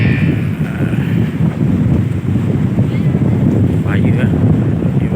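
Strong monsoon wind buffets a seaside camp with a camel tent, roaring and gusting loudly into the microphone over the sound of rough sea, while a voice speaks faintly underneath.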